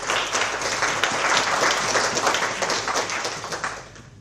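Audience at a PostgreSQL conference round table applauding, a dense, sustained burst of many hands clapping that swells and then tapers off over about four seconds.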